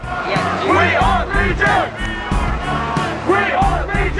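A large crowd shouting and chanting together outdoors, loud and continuous, with rhythmic bursts of yelling rising and falling.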